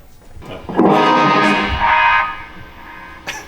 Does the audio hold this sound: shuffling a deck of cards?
no